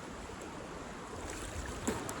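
A strong river current rushes over stones in a Konkan river, a dense, steady close-up wash of flowing water with no voices.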